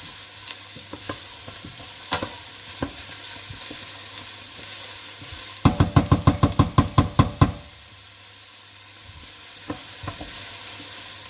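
Celery stalks sautéed gently in a pan hiss with a steady close sizzle, broken midway by a quick run of a dozen sharp utensil knocks against the pan.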